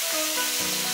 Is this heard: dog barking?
no